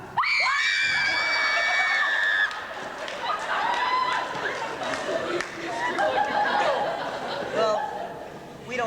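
Riders on an amusement park ride scream loudly together, a sustained burst of high shrieks with shouting and chatter from a crowd of students throughout.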